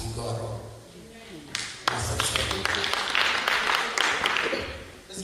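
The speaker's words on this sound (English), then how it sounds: "Let's give him a good clap." Someone speaks briefly, then an audience at a theological seminary graduation ceremony breaks into scattered, then fuller clapping that carries on to the end.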